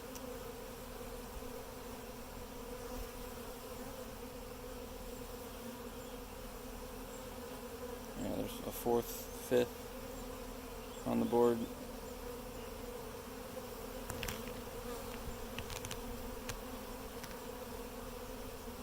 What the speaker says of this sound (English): immediately the bees start to respond.